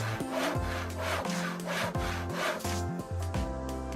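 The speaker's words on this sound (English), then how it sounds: "Now let's check out the sharpening process." Knife sharpened on a homemade sharpener fitted with aluminum clamping plates, giving steady, loud, rasping back-and-forth strokes in a continuous rhythm, close up with no talking.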